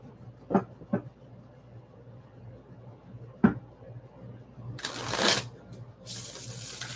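Tarot cards being shuffled by hand, a few sharp taps and riffles followed by two longer bursts of papery riffling, close and fairly loud with a quiet room hum underneath.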